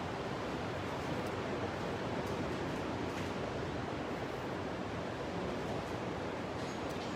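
Steady broadband rushing wind, continuous and fairly loud, with no voices or distinct events.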